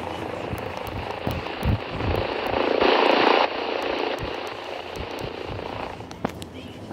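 A propeller plane's engine hums and drones nearby at low speed, swelling briefly louder midway before easing back to a steady idle.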